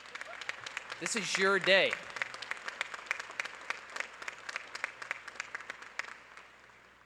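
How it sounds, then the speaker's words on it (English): An auditorium audience at a fall undergraduate commencement ceremony applauds the graduates with dense, steady clapping that runs throughout, while a speaker talks loudly over the first couple of seconds. "I want everyone in this auditorium right now to give an applause for the graduates that decided to get back up."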